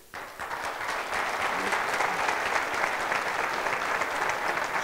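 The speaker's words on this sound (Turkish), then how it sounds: "kocaman alkışlarla ayağa kaldırıyoruz" A large audience claps steadily, building quickly into sustained applause that keeps going without letting up.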